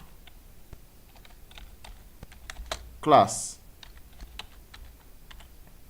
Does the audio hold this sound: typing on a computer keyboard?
yes